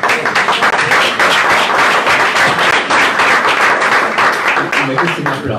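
Sustained applause from a large crowd, steady and dense clapping filling the whole stretch at a loud, even level.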